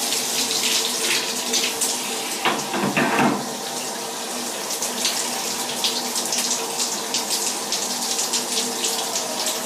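Water streams steadily from a tap onto a washcloth being wetted for cleaning a cat, a close, continuous splashing hiss with a brief louder gush near the start and no voices.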